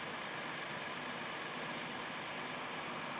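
A 1949 Dodge's engine idles in cold weather, a low, steady rumble without change, quiet and continuous, with a soft broadband hiss over it and no voices.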